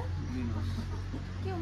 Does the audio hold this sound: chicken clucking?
yes